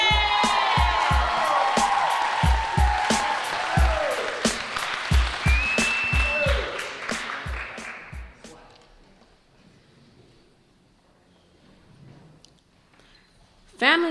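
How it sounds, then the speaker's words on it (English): An audience at a poetry slam applauds and cheers for the next poet, loud and close for about eight seconds with a whoop, then it fades to quiet room tone. "Please clap it up to the next poet, Raven!"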